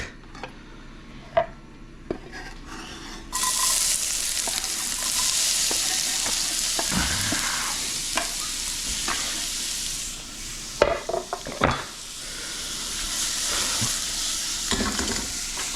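Food sizzles and fries steadily in hot oil while tomato soup is being made, with occasional stirring clatter and utensil knocks over a continuous loud hiss.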